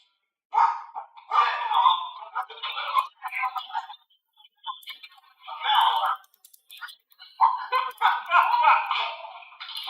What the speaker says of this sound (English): you can't have an animal running up at you, barking and being aggressive like that.